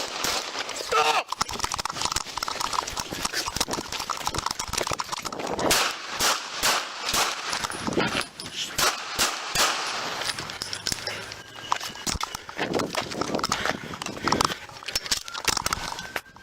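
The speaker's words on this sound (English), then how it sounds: "Shots fired!" Gunfire in an apartment complex during a police bodycam encounter rings out as a rapid series of sharp cracks amid loud, chaotic noise, with shouting voices mixed in throughout.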